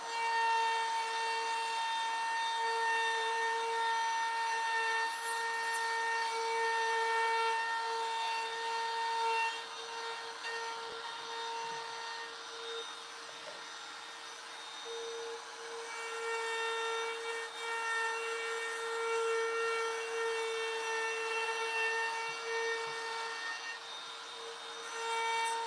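Router fitted with a profile bit carving a wooden sign, making a high steady whine with harsh cutting rasp that eases and swells as the bit moves through the wood.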